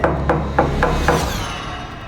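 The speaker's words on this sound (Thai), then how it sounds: "แต่คราวนี้เสียงเคาะประตูดังขึ้นเรื่อย" Knocking on a door as a horror-film sound effect: five evenly spaced, loud knocks close by, followed by a lingering reverberant tail fading into silence.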